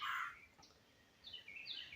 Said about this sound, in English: Right now the birds are singing.